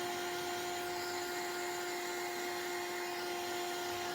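A heat tool drying paint on a mixed-media craft piece, giving a steady, loud whirring blow with a constant high whine that runs unbroken throughout, with no talk.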